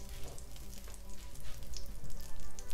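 Unsalted butter melts and sizzles in a pan before bacon goes in for spaghetti carbonara, a steady dense crackle of fine pops close up with no voices.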